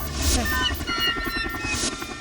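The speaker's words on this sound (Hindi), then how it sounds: "ये हेलीकॉप्टर है, पब्लिक बस थोड़ी है।" A helicopter cabin with a steady low rotor and engine drone filling the background, a constant hum running throughout.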